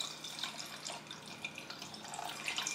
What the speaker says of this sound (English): Now let me pour my little apple juice.